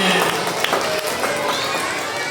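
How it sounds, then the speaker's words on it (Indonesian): Applause from the audience at an elementary school Islamic New Year and orphan charity gathering, a steady broadband patter of many hands lasting throughout, fairly loud and without clear gaps. "Tepuk tangan untuk kita semuanya"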